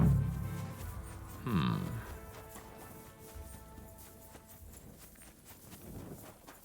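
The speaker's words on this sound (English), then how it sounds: "I hear horses." Horse hooves clip-clop in a video game, a short run of soft, fairly distant hoofbeats alongside faint game ambience and a brief tonal sweep.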